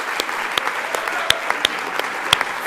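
Crowd applause from an audience at a business talk, a steady dense patter of many hands with sharper individual claps popping out, fairly close and continuous throughout.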